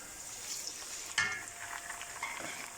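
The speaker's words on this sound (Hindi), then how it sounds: "तो अब हम इसमें ये टमाटर डालते हैं, अदरक लहसुन का पेस्ट डाल देते हैं।" Chopped tomatoes and ginger-garlic paste dropped into a pan of lightly browned onions for an aloo baingan curry, a sudden burst of sizzling and hissing that settles into steady frying and stirring nearby.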